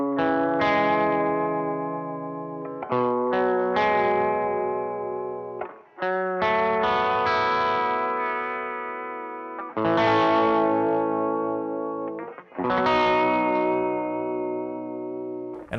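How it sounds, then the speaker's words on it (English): Electric guitar chords and notes through a lo-fi vibrato pedal, a warbling, degraded vibrato effect, with long sustained tones separated by brief pauses. "this is a lo-fi vibrato because that phonos is kind of degrading the sound."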